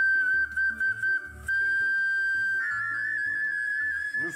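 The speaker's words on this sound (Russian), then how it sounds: "Настоящие белгородские свистульки." A Belgorod clay toy whistle blown in a kitchen, giving a bright steady tone that shifts into a rapid warble partway through, heard alone and close over some low background clatter.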